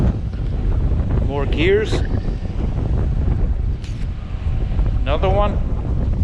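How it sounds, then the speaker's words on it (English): Wind gusting across a beach on Barren Island near Dead Horse Bay, a steady rough roar buffeting the microphone throughout, with a person talking briefly over it. "Here's a close-up of what's happening with the wind."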